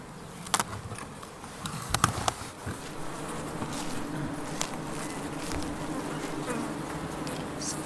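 Honeybees buzzing around the sugar feeder of a beehive, a steady close drone with a few louder passes and bumps early on, no talking.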